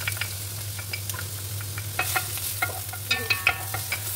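Oil sizzles steadily in a cooking pot while chicken biryani is prepared, with a constant frying hiss and scattered sharp clicks and scrapes from stirring, close up and without talk.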